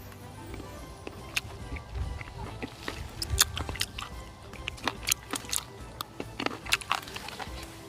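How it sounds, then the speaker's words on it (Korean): Someone bites into and chews a large fresh Sandra Rose cherry, producing close, quiet crunches and wet squishes in irregular bursts over a soft background hum. "한번 먹어보도록 하겠습니다"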